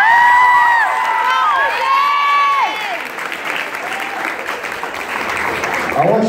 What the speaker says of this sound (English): I want you to give a big, big, big round of applause.